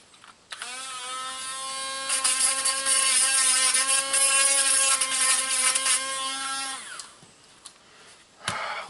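A Dremel rotary tool bores out a brake line part on a 1993 Saturn SC2, a loud high-pitched steady whine lasting several seconds before spinning down, with brief handling noises after.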